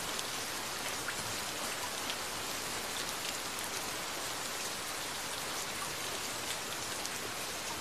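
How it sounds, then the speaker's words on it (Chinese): Steady rain pours down outdoors on two people caught in a downpour, a dense, even hiss of drops with no pauses and no voices for the whole stretch. "这好像是我们第二次一起淋雨了。"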